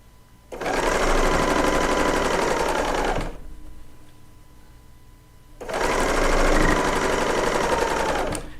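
A serger sewing machine stitches quilt pieces in two loud, steady bursts of close mechanical whirring, separated by a short pause filled with quieter background noise.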